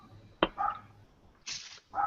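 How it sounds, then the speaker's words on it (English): A dog barks a few times in the background, short separate yaps spread across a couple of seconds, fairly faint against room noise. "I can hear a dog."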